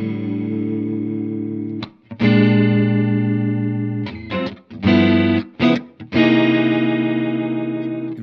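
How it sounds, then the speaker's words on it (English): Electric guitar run through a Strymon Zelzah modulation pedal set to a fast faux-Leslie chorus, giving sustained, swirling warbled chords that stop briefly, then return as short choppy stabs before a long ringing chord, loud and alone. "If we turn the speed knob up, we can get faux Leslie chorus type tones."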